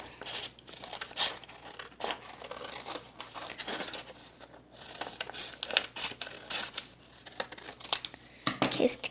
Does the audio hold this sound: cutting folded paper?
yes